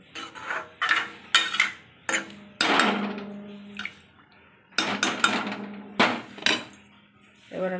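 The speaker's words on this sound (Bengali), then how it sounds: "এবার আমি ঢেকে দেবো।" A metal lid being set onto a pot of simmering masoor dal with water: a series of sharp clanks and knocks with short ringing tones, some in quick pairs, close up.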